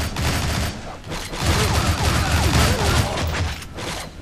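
Pistol gunfire in the Shank 2 action game, rapid loud shots merging into a dense, near-continuous barrage amid clattering combat noise, with no talking.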